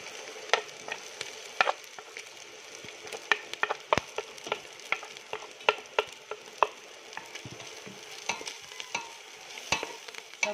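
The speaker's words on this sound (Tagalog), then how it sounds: "Ihulog na po natin lahat ng itong mga gulay" Vegetables for fried rice are stir-fried in a pan, giving a soft sizzle broken by frequent sharp scraping and tossing clatters from the spatula in an uneven rhythm, close and clear with no voices.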